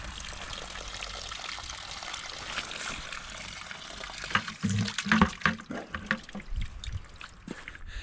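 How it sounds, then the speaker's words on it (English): Stream water runs by gravity through a hose and spills into buckets at an outdoor land-clearing site, a steady trickling and pouring that grows louder and splashier partway through, with a voice talking over it. "It runs through a hose that I've put into the stream, and basically I'm just gravity feeding it down to these buckets."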